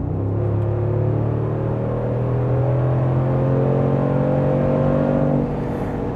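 Loud Mercedes-Benz G 63 AMG engine revving under acceleration, rising harmonic roar climbing steadily in pitch over several seconds before easing off, close and unaccompanied by talk.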